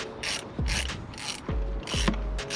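A ratchet wrench clicks in short bursts of rapid pawl ticks while spark plugs are changed on a car, with quick rubbing strokes between about four close, fairly loud bursts and no talking.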